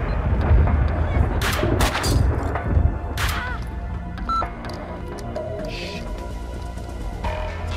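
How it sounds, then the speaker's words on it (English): Gunfire in the video game Max Payne 2 cracks out in several loud, sharp shots early on, then sparser impacts and clinks follow under a low, steady game background. "You guys are shooting me, and I'm unarmed."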